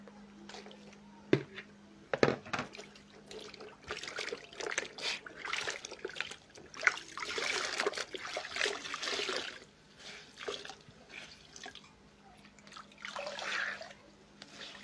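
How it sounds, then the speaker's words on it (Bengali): Batik-dyed fabric is rinsed in water, with intermittent splashing, sloshing and dripping as the cloth is handled, fairly quiet and close. "আমি 10-15 মিনিট রেখে কাপড়গুলো ধুয়ে ফেলবো"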